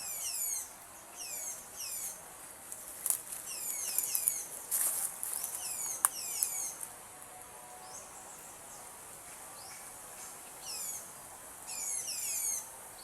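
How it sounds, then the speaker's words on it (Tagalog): Rapid repeated high-pitched bird calls in bursts over a quiet background, some close and some farther off, with a few sharp knocks in between and no talk. "Ang dami palang ibon dito."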